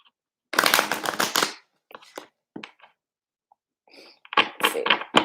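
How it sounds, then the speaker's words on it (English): Deck of playing cards being shuffled by hand at close range, a dense riffling burst followed by a few scattered taps and flicks, then a second quick riffle near the end; no talking. "I'm really gonna shuffle these little fuckers"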